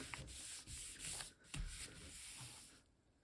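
A hand rubs paper firmly over a gelli printing plate inked with leaves, a soft, continuous scratchy rasping in quick strokes, close and quiet, ending in near silence.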